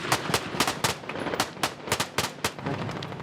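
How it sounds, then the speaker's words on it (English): Gunfire from Taliban fighters attacking a base in Afghanistan, a rapid irregular series of sharp cracks and bursts, moderately distant, with no talking. "6 Taliban fighters were firing at the base."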